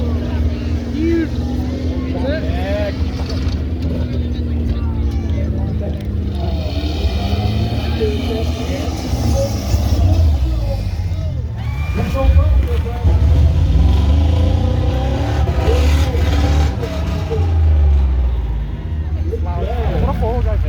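A Ford van with a 5.4 engine roars through a tough truck competition at a Michigan county fair, its engine droning and revving loudly while spectators talk and shout close by.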